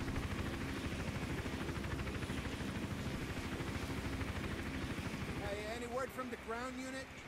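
Helicopter hovering overhead in the Hitman Absolution video game, a continuous heavy rotor thump throughout, with game tones and chirps entering near the end.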